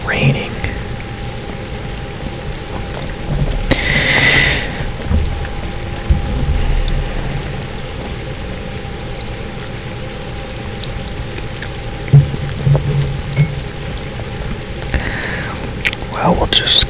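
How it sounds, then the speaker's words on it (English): Steady rain pours at night in the fishing game Fishing Planet, a continuous hiss with scattered drop taps and a few brief louder bursts throughout. "It's raining."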